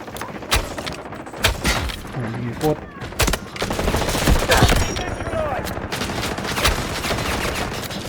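Dense gunfire in the video game Delta Force, rapid overlapping shots and thuds in a sustained loud volley with scattered single cracks, a voice talking over parts of it.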